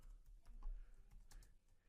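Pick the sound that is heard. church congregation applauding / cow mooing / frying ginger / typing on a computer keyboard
typing on a computer keyboard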